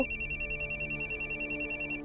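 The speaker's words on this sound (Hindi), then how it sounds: "फोन बज रहा है तुम्हारा?" A telephone rings with a rapid, repeating electronic trill, steady and fairly quiet, pulsing evenly through the whole stretch with no voices over it.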